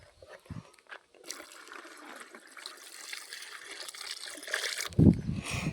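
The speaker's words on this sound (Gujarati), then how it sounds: "હવે પાણી નાખી દઈએ માથે।" Water runs and trickles into a container to top up a homemade pesticide spray mix, a steady pouring wash that builds in level over several seconds before a brief clunk near the end.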